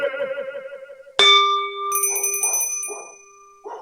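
A bright bell chime, struck once, rings sharply and sustains with a clear ringing tone in a notification-style sound effect, with further faint chime tones ringing after it, following a spoken voice.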